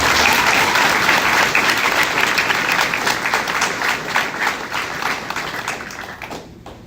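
An audience at a 6th grade farewell claps and cheers loudly in a hall, a dense, continuous burst of applause that slowly thins and fades toward the end.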